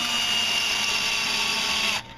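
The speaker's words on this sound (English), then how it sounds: "And I'm going to drill 2 holes" A power drill bores a hole into a brick with a steady, loud whine that holds for about two seconds and then cuts off abruptly.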